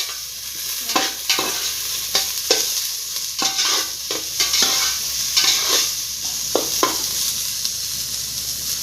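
Mutton being stirred and mixed in a pan, with repeated scraping strokes over a steady sizzle, loud and close with no talking.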